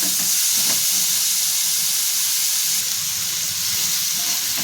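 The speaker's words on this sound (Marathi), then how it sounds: "आता इथे जी भाजी शिजवून घेतलेली आहे ती मी टाकून घेते मी पण छान मिक्स करून घेते" Cooked vegetables with coriander-cumin powder sizzle steadily in a hot pan as they are mixed, a loud, continuous close-up frying hiss with faint stirring scrapes underneath and no talking.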